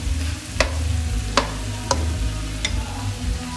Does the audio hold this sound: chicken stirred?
yes